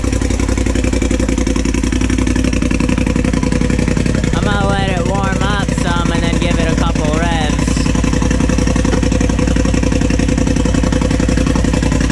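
A Polaris RZR engine fitted with a Boondocker Dominator turbo kit runs with a loud, steady idle rumble, close by, while a person talks over it partway through.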